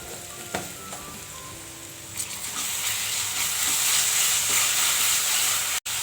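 Ginger garlic paste sizzles steadily in a hot pan, a continuous hiss that swells louder midway, with a few scrape and stir clicks and no voices.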